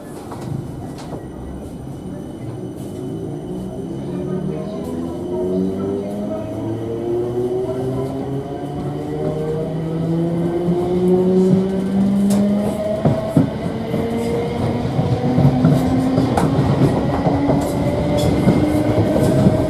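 A South Western Railway Class 455 electric train heading for London Waterloo, its motors whining in steadily rising tones over continuous rail rumble and wheel clatter, heard from inside the carriage without talk.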